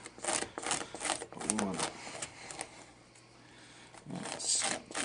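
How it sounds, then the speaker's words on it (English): A stout rougher rasps over ear cartilage during taxidermy mount preparation, giving short scuffing strokes in uneven bursts with someone talking over them. "we're going to use a stout rougher to help prep this ear"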